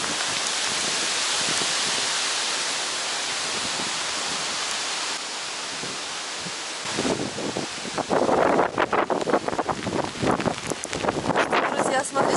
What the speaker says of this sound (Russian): Опять нас накрыло дождем.